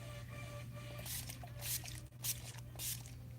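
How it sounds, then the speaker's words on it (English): Several short hissing spritzes of makeup setting spray from a spray bottle, each a quick bright burst, repeated close by over a steady low electrical hum. "This is setting spray, 10 Years Younger setting spray"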